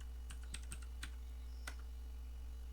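Someone types a short command on a computer keyboard in a command prompt, making a handful of quick, light key clicks close by against a faint steady hum.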